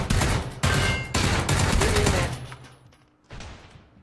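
Gunfire in PlayerUnknown's Battlegrounds during a close encounter with a shotgun-armed enemy: several loud, booming shots in quick succession, each with a decaying tail, followed by quiet and one more blast near the end.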